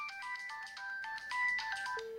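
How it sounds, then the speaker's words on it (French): A telephone rings with a repeating electronic warble of short bursts, clear and fairly loud, before it cuts over to the answering machine tone at the end. "Un appareil téléphonique qui sonne jusqu'au répondeur"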